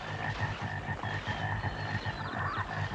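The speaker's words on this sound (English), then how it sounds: "Except, well, frogs. I mean, they're there, hopping around and croaking relentlessly in the background." A dense chorus of frogs croaks rhythmically and relentlessly in the 1972 film Frogs, a pulsing low throbbing with higher calls layered above, continuous and close.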